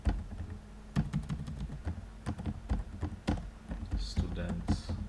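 Typing on a computer keyboard, close and fairly quiet, with irregular clusters of sharp key taps and clicks spread through the stretch and a voice talking faintly in places.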